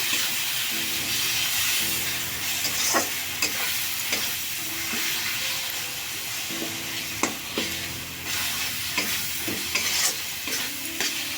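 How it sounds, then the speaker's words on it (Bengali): Spice paste being stir-fried for dhania chicken in a pan, a continuous oily sizzle broken by repeated scraping strokes of a spoon, close and steady with no talking. "মশলাটা একটু কষিয়ে নেব"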